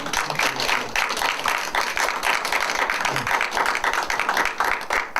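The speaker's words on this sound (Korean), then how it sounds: "다시 한번 박수 한번" An audience at a lecture forum breaks into dense, continuous clapping that carries on steadily throughout, moderately loud and filling the room with no voices over it.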